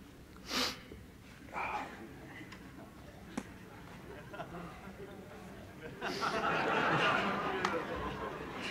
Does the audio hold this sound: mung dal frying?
no